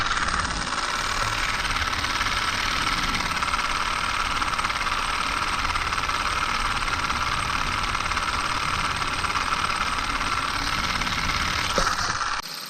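A small Stirling engine geared to a motor to charge a smartphone, running with a steady, loud mechanical whir and rattle that holds constant throughout before cutting off at the end.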